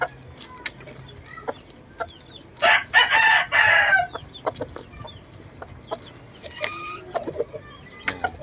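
Caged chickens, three mayahin-colored and two white, with one rooster letting out a loud, close crow, surrounded by scattered clucks and small knocks.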